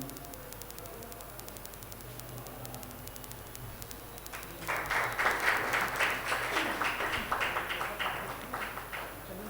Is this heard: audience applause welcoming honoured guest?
yes